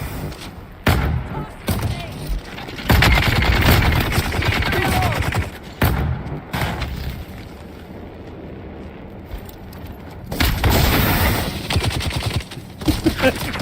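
Turrets and weapons firing in Dune: Awakening, bursts of rapid gunfire and heavy thuds in dense clusters, loud and close, separated by quieter stretches with game ambience and a voice speaking now and then.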